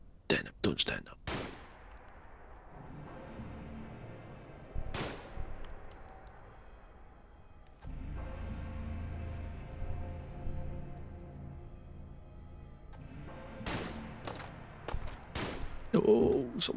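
Gunfire in the video game Fallout London comes in sharp, loud bursts: a rapid cluster of shots at the start, then scattered single cracks and a closing flurry, with a player's voice talking over quieter stretches.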